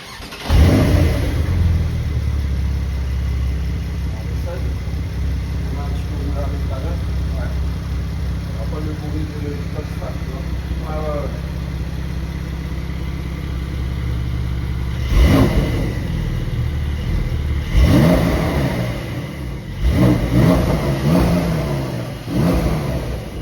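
A Porsche 911 Carrera GTS engine cranks and catches, settling into a loud idle, then several sharp revs rise and fall near the end.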